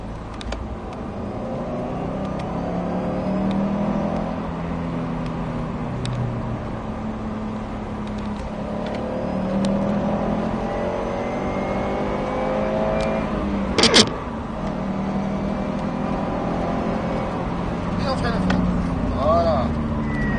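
A Subaru WRX STI engine pulls on light throttle from inside the car, a steady mid-level drone rising and falling gently with small revs, while a person talks over it.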